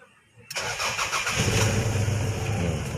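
A car engine cranks and catches after an ECU swap, starting abruptly from near silence and settling into a loud, steady, close running roar.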